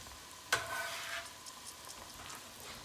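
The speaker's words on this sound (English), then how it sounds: "Get this all mixed up" A tomato meat sauce is stirred in a pot, opening with a sharp clack, then a few seconds of soft, quiet scraping and faint sizzling.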